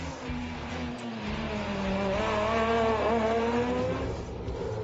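A rally car on a competition stage, its back end loose and sliding, holds a loud, continuous engine drone with shifting revs and a faint tire-on-gravel rush throughout.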